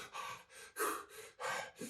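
A voice imitates fast, anxious breathing: several quick, loud gasping breaths in a steady rhythm, close and alone without speech.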